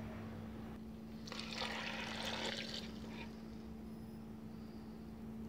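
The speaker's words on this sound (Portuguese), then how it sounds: "Vamos colocar 2 copos de água de 200 ml. Eu tô colocando água do filtro." Filtered water, two 200 ml glasses, is poured into a blender for green juice, making a soft splashing pour for a second or two over a steady background hum, with no talking.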